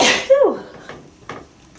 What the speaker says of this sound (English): I think I might sneeze.